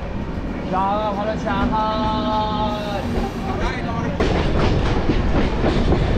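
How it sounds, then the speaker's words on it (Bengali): Kulik Express passenger train passing Tarapith Road station on the line toward Rampurhat, its wheels rattling steadily and close by beneath someone speaking throughout. "আর এই কুলিক এক্সপ্রেস যাচ্ছে"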